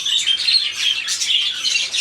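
Pet birds chirp continuously and fairly loudly nearby, a dense, steady stream of high tweets and squawks with no talking.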